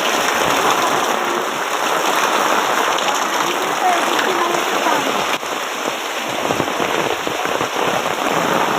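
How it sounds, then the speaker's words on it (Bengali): Heavy rain pours down in a dense, steady roar with no letup, filling the whole clip; faint voices are partly buried beneath it. "দেখেন কত পানি পড়তেছে কত পানি পড়ে"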